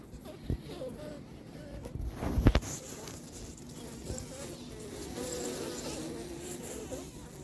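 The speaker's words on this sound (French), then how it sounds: "Je sais pas comment les abeilles vont me recevoir." A honeybee colony that has settled in a château buzzes steadily and softly, with a close pass or two, a few sharp knocks and handling noises, and a low murmur of voices.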